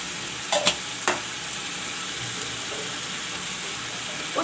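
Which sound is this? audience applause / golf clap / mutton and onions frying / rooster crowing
mutton and onions frying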